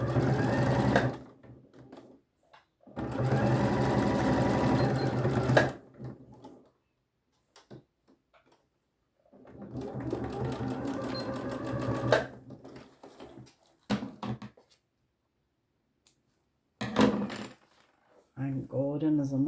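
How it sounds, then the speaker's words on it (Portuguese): A sewing machine stitches the side of a fabric necessaire box, running in several long bursts with short pauses between them, close and fairly loud, while someone speaks briefly in the gaps. "Eu já costurei, agora eu vou costurar o outro lado"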